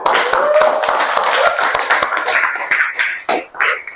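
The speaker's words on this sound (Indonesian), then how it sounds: "Oke, baik, tepuk tangan dulu." An audience claps at a university class presentation on marriage in Islam at UIN Sunan Gunung Djati Bandung, loud close hand claps in a quick beat that loosens toward the end, with some voices mixed in.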